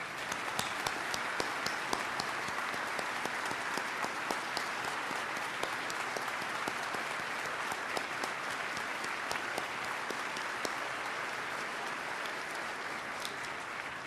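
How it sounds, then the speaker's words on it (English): An audience at a State of the State address gives a sustained round of applause for two families, a dense, even roar of many hands clapping that continues steadily without a break. "Please join me in another round of applause for the Ciparini and Kachuvka families"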